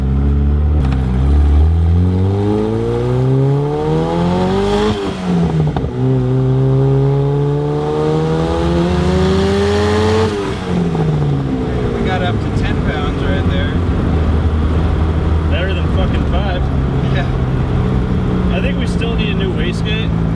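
A turbocharged car engine fitted with eBay exhaust headers runs and revs in repeated rising pulls, a loud close droning roar with climbing harmonics, easing off between pulls, with people talking over it.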